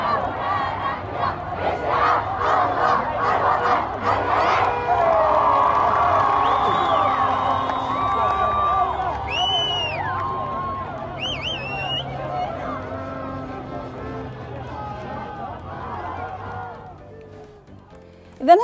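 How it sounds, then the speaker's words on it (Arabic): Moroccan football fans celebrate their team's win over Belgium, a large crowd roaring, chanting and whooping loudly and continuously, with shouted voices rising over the din before it thins near the end. "شاهدوا معي هنا فرحه الجماهير المغربيه"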